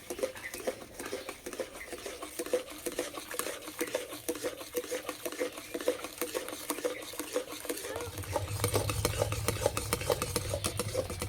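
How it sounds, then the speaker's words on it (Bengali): Jaggery cooks slowly in a pan, with steady soft scraping and stirring strokes repeating throughout and a low rumbling hiss of heating growing fuller toward the end. "আস্তে আস্তে জাল দেবো গুড়টা রান্না করে নেব"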